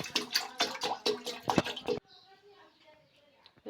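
Water splashes and pours into a cooking pot for boiling noodles, loud choppy gushes for about two seconds, then stops, leaving a quiet room with faint background noise.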